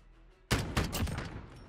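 Rapid gunfire from a hardcore Search and Destroy match in Call of Duty: Modern Warfare, a sudden close burst of several loud cracking shots that cuts in after near silence and trails off with echo.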